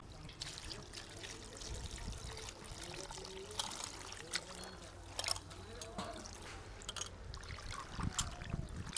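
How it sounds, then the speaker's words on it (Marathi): Leafy wild Katemath greens being washed in water, with steady pouring and trickling, splashing and handling of the leaves, while someone talks over it. "भाजी चांगली धुवून घ्यायची बरं का स्वच्छ धुवून घ्यायची"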